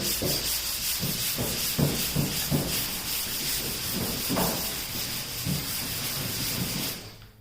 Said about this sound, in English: So I'm sanding in one direction.